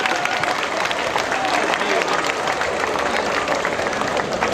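Sustained applause from a large audience welcoming comedian Johnny Lever at a public event in Dumka, Jharkhand, a dense, continuous wash of clapping.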